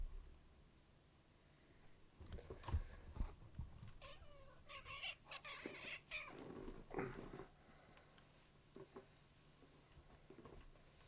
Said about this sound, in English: Sorry, my cat was up here.